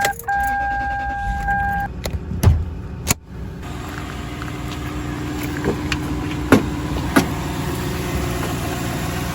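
A Lexus LS430 engine with 265,000 miles cranks with a few sharp clunks, catches, and then settles into a steady, low idle that runs to the end.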